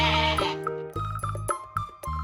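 Cartoon goats bleating in a children's moral story, several short nasal bleats in quick succession, clear and close with no talk over them.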